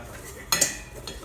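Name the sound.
mixing Food for the Gods batter in a bowl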